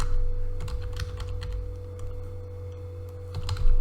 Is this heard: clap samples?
no